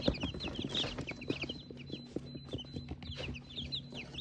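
Several chickens cluck and call at close range beside an automatic egg incubator that holds 130 eggs, with a steady low hum underneath. Short, irregular bursts of clucking overlap throughout.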